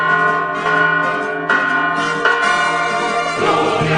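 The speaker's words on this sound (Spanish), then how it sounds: "con estas campanas que llaman a misa, despedimos este programa" Church bells ring out to call the faithful to Mass, in full, overlapping peals that keep sounding without a break. No voices are heard over them.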